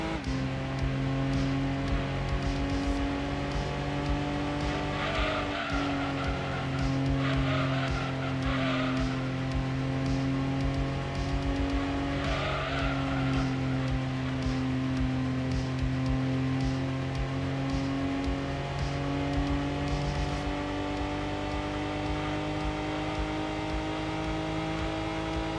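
Race cars in Gran Turismo 2 on PlayStation 1 climb uphill, their steady engine drone holding throughout with occasional tire squeal, loud and continuous with no talking.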